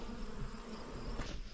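Honeybees flying at a hive entrance, a close, continuous buzzing drone from many insects with small swells as individual bees pass near.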